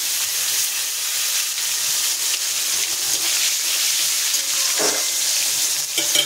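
Cumin seeds and tomato sizzle in hot oil for a spicy Bengali chorchori, a steady loud frying hiss lasting throughout, with a brief stir or clatter near the end and no talking.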